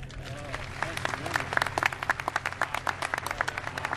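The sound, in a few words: audience applause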